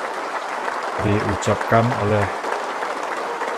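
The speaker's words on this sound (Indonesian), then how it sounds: "Tepuk tangan gemuruh meriah" Applause at the Indonesian presidential inauguration of Prabowo Subianto, a steady wash of crowd clapping that runs throughout while a voice speaks over the middle.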